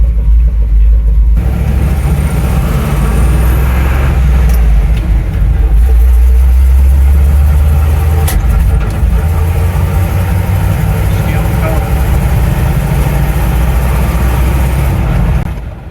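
A 1975 Chevrolet C10 pickup engine rumbles steadily at idle, deep and close, with a continuous low throb and no talking.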